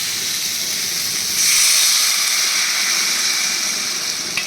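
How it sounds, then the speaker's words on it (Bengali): Water poured into a hot pan of vegetarian ash gourd curry sets off a loud, steady steaming hiss that swells briefly midway, then holds on. "এবার আমি এর মধ্যে দিয়ে দিচ্ছি জল।"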